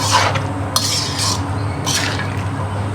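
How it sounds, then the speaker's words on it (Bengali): Bottle gourd and spices are stirred with snakehead fish in a cooking pot, giving a few scraping, rasping strokes of a utensil against the pot over a low steady hum, close and fairly loud. "এখন লাউটা ভালোভাবে নাড়িয়ে নিতে হবে যেন মশলাগুলো ভালোভাবে"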